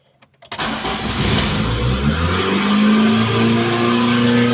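A cold Lada Kalina engine cranks and fires after a brief click, then settles into a loud, steady, slightly uneven running note with no throttle applied, recorded close to the car.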